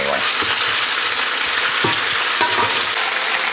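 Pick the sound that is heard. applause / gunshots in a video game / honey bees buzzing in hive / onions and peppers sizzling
onions and peppers sizzling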